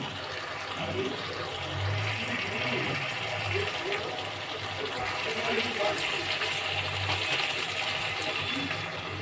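Water is poured into a pan of cooking spices, giving a steady, even wash of liquid sound that runs at moderate level for the whole stretch with no pauses.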